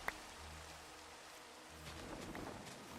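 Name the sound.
rain falling in the video game Echocraft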